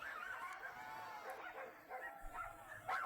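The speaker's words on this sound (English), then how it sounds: "the crowd and barks of dogs in cages" Dogs barking and yipping from cages amid a gathered crowd, several short barks popping up over a faint murmur of background voices.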